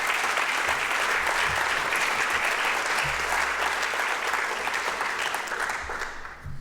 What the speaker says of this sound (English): one big applause for this collaboration